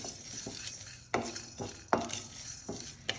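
Fenugreek seeds frying in a pan over a low-medium flame while Bitter gourd Gojju is made, with soft, quiet sizzling and a few sharp clinks of a spoon against the pan spaced through the stir.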